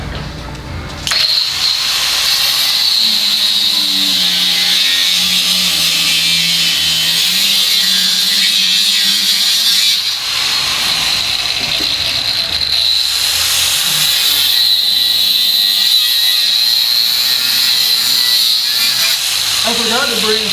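Angle grinder cutting off pieces from a large plaster sculpture being prepared for transport, a loud, steady high-pitched whine running continuously for about twenty seconds with slight shifts in pitch as it bites into the plaster.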